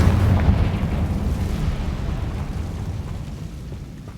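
A Confringo blasting spell exploding in Hogwarts Legacy: a loud, deep booming blast that rolls on and slowly fades over several seconds.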